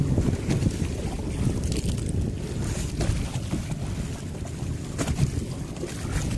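Continuous wind gusting against the microphone out at sea, a dense rumbling roar with bursts of flapping.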